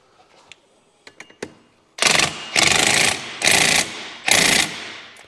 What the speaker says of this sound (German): So, der Akkuschrauber,